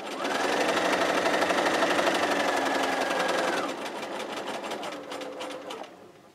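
Sewing machine stitching a raw edges square quilt, running in a steady fast whir for several seconds, then slowing slightly before stopping, close and clear with no talk.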